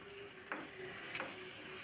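Noodles with egg stirred in a frying pan, a steady sizzle with a couple of brief scraping strokes of the utensil, close and alone without talk.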